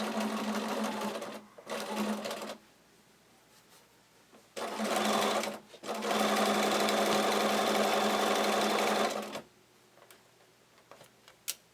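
A sewing machine back-stitches a ruffle tag blanket in rapid mechanical bursts, close and clear, stopping and restarting several times with short quiet pauses between runs.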